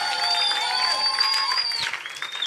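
A church congregation claps and cheers in a dense, continuous burst of applause with loud ululation riding on top, filling the room from start to finish.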